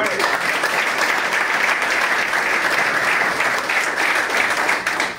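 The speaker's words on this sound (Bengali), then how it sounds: "এখন নিজেদের জন্য জোরে করতালি দাও।" A room full of people gives loud, sustained applause during a Vestige marketing plan meeting, the clapping even and unbroken throughout.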